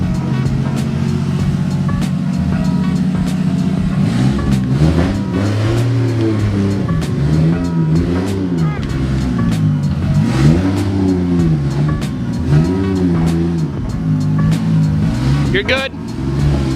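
Toyota 2JZ engine in a Zupra project car, starting from a steady idle and then revving repeatedly in rising and falling sweeps, close and loud, with someone speaking briefly over it.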